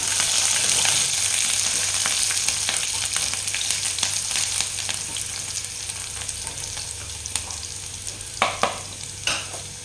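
Chopped vegetables with green chillies stir-frying on high flame for paneer momo filling: a loud, continuous sizzle with repeated spatula scrapes and a few sharper clatters near the end, close by, no talking.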